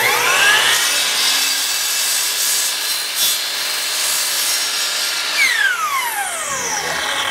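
A piece of wood is sawn to trim the end while building a lid for a rotary sieve, with steady close rasping strokes running throughout and no voices.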